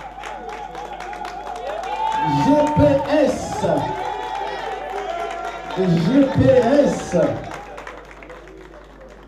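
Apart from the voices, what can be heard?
audience applauding at an award ceremony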